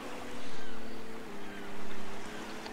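A yacht motors across open water in Roblox, a steady engine drone over a wash of water and wave noise that swells and eases, continuous and fairly loud.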